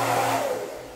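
A hair dryer blows steadily with a broad airy whoosh and a low motor hum throughout, starting loud and easing slightly toward the end, with no talking over it.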